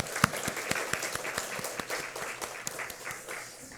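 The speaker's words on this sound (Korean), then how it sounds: "우리 찬송 가운데 임하신 하나님께 감사와 영광의 박수 올려드리겠습니다" A church congregation applauds during a Sunday morning worship service, a soft, fairly distant patter of many hands that fades gradually, with no talk over it.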